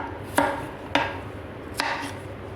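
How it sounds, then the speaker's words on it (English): A kitchen knife dices cucumber into small cubes, striking the board three times in a slow, uneven rhythm. Each crisp, close chop is followed by a short tail, with no talk. "And then cut them into small cubes."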